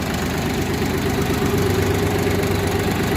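A steady diesel engine with a KM385 motor idles close by in a tractor, a constant low rumble with an even mechanical knock and no other sounds.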